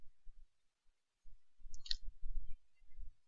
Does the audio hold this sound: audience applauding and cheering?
no